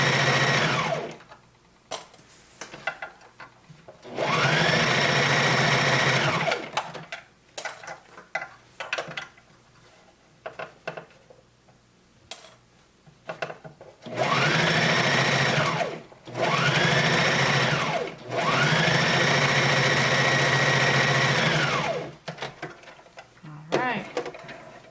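A sewing machine stitching stretched elastic onto a swimsuit, running in several bursts of steady rapid whirring separated by quiet pauses and small handling noises.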